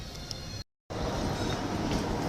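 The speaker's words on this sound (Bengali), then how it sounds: "খালি একটা ট্রেন চলতেছে দেখতে পাচ্ছেন" A small amusement park ride train running at a picnic spot, giving a steady close rumbling roll with faint rail clatter, broken by a brief dropout partway through.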